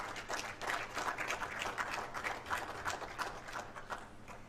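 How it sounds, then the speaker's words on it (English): Faint, distant audience applause for the guest of honor, a minister of state, at a project managers' institute event in Nigeria, with a modest group of claps pattering unevenly. "Can we give him a round of applause?"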